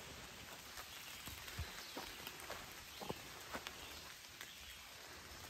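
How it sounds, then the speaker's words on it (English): Water dripping from wet leaves onto the forest floor along a foggy, misty stretch of the Appalachian Trail, a steady rain-like patter with scattered sharper drops, soft and close with no talking. "It sounds like it's raining, but I think it's pretty much all just water on the leaves falling down"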